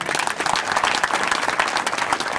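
A crowd applauding steadily and loudly, dense clapping throughout with no pauses.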